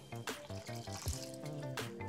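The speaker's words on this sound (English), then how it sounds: "I'm just gonna put some water in here and rinse this out." Water runs from a kitchen tap into a pan for a rinse, a steady close splashing and gurgling flow with shifting pitch as the pan fills, no voices over it.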